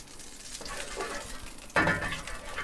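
Rendered lamb tail fat is poured into a tray during cooking of a Persian village lamb stew. A soft sizzling hiss swells abruptly into a louder, close splash and crackle partway through.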